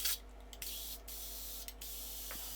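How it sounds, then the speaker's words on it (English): Airbrush being cleaned out, blowing a steady, fairly quiet hiss of spray that cuts off briefly a few times before resuming, with no voices. "Clean or dry the airbrush out."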